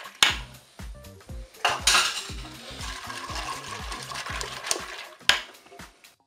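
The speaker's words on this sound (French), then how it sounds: "Donc maintenant, je vais pouvoir rajouter mon sucre. Et bien sûr, je mélange." Sugar being stirred into apricot flan batter in a Cookeo bowl with a utensil: close, repeated clinks and scrapes against the bowl in an uneven rhythm, with no talking.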